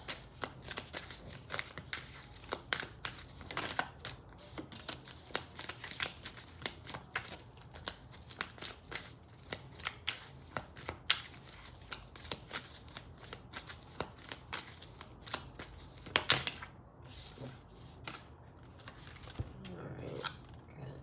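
A deck of oracle cards is shuffled by hand in a quiet room, a long run of soft crisp riffling and flicking strokes at an uneven pace, with one louder burst near the end.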